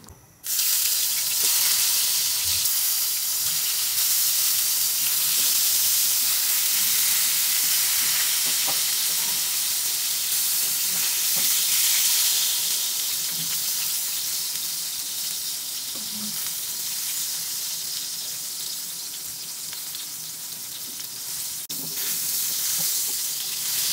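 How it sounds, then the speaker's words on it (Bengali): Pangas fish pieces coated with turmeric and salt fry in a pan, giving a loud, steady sizzle close up that runs unbroken with little variation and no talking. "এখন হলুদ আর লবণ মেখে ভেজে নিব"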